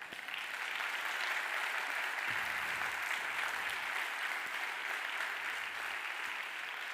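A conference crowd applauds the event's marketing organisers, a steady wash of many hands clapping heard from a distance at moderate level for several seconds, with no speech.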